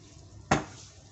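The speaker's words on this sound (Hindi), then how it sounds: "इसे मिक्स कर देंगे।" Single clink of a spoon against a pan while lemon juice is stirred into green chillies, one short bright knock over a quiet background.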